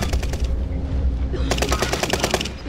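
Rapid automatic gunfire from a house in the Warzone video game, a dense, loud chatter of shots that continues throughout and grows sharper and more distinct in the second half.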